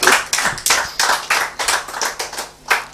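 Scattered hand claps from a small audience at a panel discussion on a voter registration exercise, a dozen or so sharp separate claps in an uneven rhythm, close and fairly loud, with no talking.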